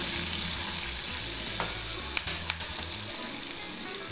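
Broad beans roast in a hot pan with a steady, close sizzle that runs the whole time, broken by a few brief scraping stirs.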